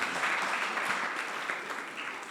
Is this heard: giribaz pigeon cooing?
no